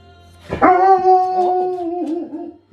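A pet dog named Koa gives a sudden loud, close howl that rises sharply and holds in a sustained wavering cry, breaking into shorter barking yelps toward the end.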